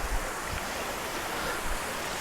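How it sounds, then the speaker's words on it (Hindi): Rudradhari waterfall in Kausani pours in a dense, steady rush of water, close and continuous with no voices. "ये देखिए पानी का झरना"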